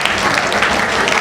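A live audience at a Hindi comedy and poetry gathering claps loudly and steadily throughout, a thick burst of applause welcoming the next poet.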